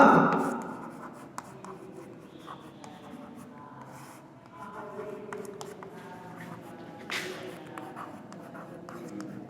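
Chalk or marker writing on a board during a physics class, a soft steady scratching and tapping that runs throughout, with quiet room noise and a faint voice at the start.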